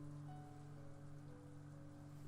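Rain falls steadily on a rose garden in the game Umineko no Naku Koro ni Chiru, a soft, even patter heard alone with a constant low hum beneath it.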